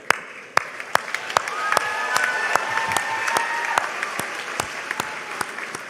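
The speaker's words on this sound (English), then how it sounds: "Join me in another round of applause to honor those who helped you attain your goal of becoming a university graduate" A crowd applauds at a university graduation ceremony, sustained even clapping from a large audience in a hall, with sharp, louder individual claps standing out at fairly regular intervals close by.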